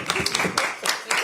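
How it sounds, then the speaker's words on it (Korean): Applause at a Democratic Party supreme council meeting in Korea, a room of people clapping in short bursts for about a second, fairly loud and close, with some voices mixed in. "큰 박수 부탁드립니다."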